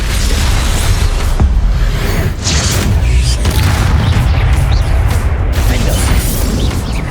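Confringo fire spell blasts in the video game Hogwarts Legacy, a dense run of loud booming explosions and bursts over continuous combat rumble, with a brief shouted voice among them.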